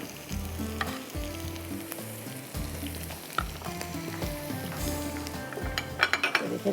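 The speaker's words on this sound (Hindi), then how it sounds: "ये तड़का जो खिचड़ी में लगाना है उसके लिए मैं तैयारी कर रही हूँ" Oil sizzles and crackles in a pan up close as onion, garlic and cumin are tempered for khichdi, while a utensil stirs and clinks against the metal, the frying steady throughout.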